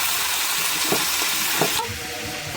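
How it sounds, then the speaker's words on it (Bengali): Vegetables fry in a pan with a dense, close hiss of sizzling and a few soft stirring scrapes. The sound drops a little toward the end. "সবজিগুলোকে সুন্দর করে ভেজে নিচ্ছি"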